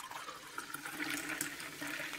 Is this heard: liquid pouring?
yes